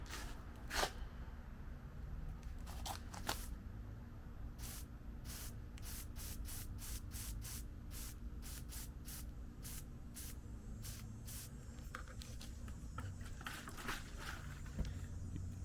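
A spray bottle mists in a long series of short, sharp hissing bursts, some quick and clustered, others spaced apart, close up.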